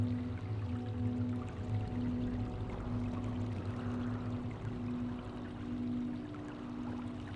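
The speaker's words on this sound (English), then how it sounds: "Water." Water flows and pours steadily in the Mass Effect 3 video game, a continuous splashing wash at moderate loudness over a low ambient hum, with no voices.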